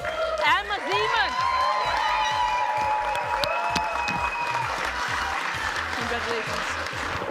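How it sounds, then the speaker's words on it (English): Crowd applause and cheering for the second-place winner at the Best Nordic Sommelier Championship, dense clapping under a loud voice and whoops, with a fast rhythmic beat of music running underneath throughout. "May I please have a big round of applause for second place, Emma Zeman."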